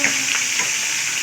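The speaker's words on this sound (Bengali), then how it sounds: "এদিকে মাছের মাথা তো ভাজা হচ্ছে" A fish head fries in hot oil in a home kitchen, giving a loud, steady, close sizzle with crackling pops throughout.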